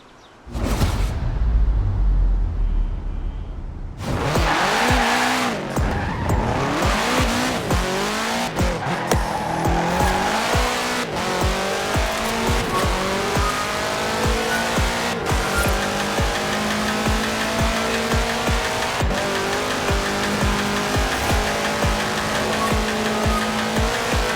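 Racing car fitted with a 2.5-liter flat-four turbo engine, driven in Forza Horizon 4: a loud, continuous engine roar with repeated revving and gear changes, plus squealing tires, after a short quieter lead-in.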